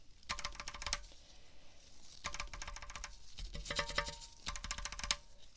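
Keycaps snapping onto a mechanical keyboard in quick clicking bursts, four clusters of sharp close taps with a bright metallic ring, separated by brief pauses.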